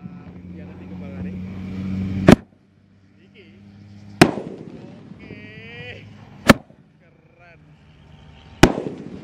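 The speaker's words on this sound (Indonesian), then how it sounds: "Nah, kembang api guys. Spesial menuju Lebaran." Roman candle fireworks (1.9 size) fired on a Ramadan night, four sharp loud bursts spaced about two seconds apart with whistling, crackling tails between them, while people talk and react in the background.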